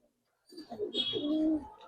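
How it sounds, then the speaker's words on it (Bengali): Pigeons coo in a pair of silver birds kept for sale by a Bangladeshi fancier, with soft throaty cooing that rises after a brief silence and swells into a sustained, close murmur. "ভাই আরেক জোড়া যে সিলভার কবুতর দেখেন ভাই"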